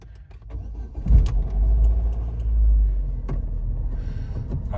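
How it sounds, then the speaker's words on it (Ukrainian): Opel Zafira B engine cranking and catching after a recharged battery was reconnected, a short starter burst followed by a low rumbling idle that swells, then settles, close by. "машинка завелася."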